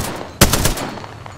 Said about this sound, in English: And we're shooting.